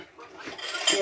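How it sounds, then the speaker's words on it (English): Dishes and cutlery clattering at a kitchen sink during dishwashing, a busy close clinking and scraping that builds louder toward the end. "Doing the dishes, people, doing the dishes."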